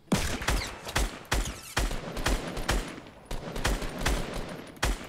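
An assault rifle in Fortnite fires in sharp, rapid bursts, roughly eight separate volleys, each loud and close with short gaps between them.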